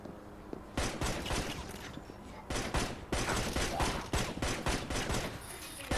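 Rapid gunfire from the mobile crime shooter Vegas Crimes, with dense, loud, fast volleys of shots that hammer almost nonstop, broken by a few brief pauses.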